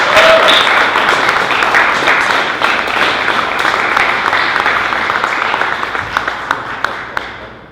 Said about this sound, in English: if everyone could just give Bryce a round of applause